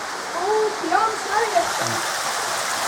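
Stream flowing through the Rám-szakadék gorge in Hungary, a steady broadband rush of water running continuously under several people talking and calling out close by.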